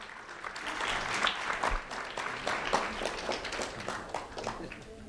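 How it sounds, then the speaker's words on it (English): Audience at a community awards event applauding an honoree, a dense patter of clapping with some uneven bursts and a few thumps, with voices mixed in. "a round of applause for Christopher Marrero"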